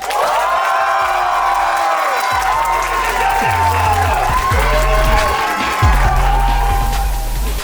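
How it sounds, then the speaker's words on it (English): A comedy club audience claps and cheers loudly for a stand-up comedian, a dense steady roar of applause with whoops and shouts rising throughout. "I'm gonna ask you to clap on the count of 3"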